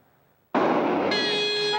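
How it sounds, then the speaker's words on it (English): A very loud, sustained train horn mounted on a car starts abruptly after a brief quiet moment and holds steady, a second harsher tone joining partway through. "A blasting horn made for trains some drivers are now installing on their personal vehicles."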